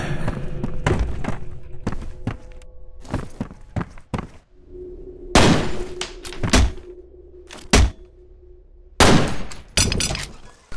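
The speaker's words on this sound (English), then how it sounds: "That was a close range shot" Sharp close-range gunshots from the video game F.E.A.R. arrive as several hard, punchy bangs spaced irregularly across the stretch, loud and close, with a low steady hum beneath and no voices.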